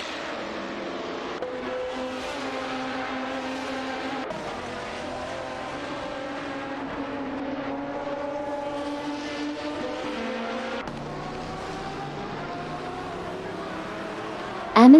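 Race car engines in an AI-driven racing video game, with cars including a Ford GT, a Maserati MC12 and a Nissan 350Z, drone in a continuous high-pitched whine that shifts pitch as they accelerate and change gear.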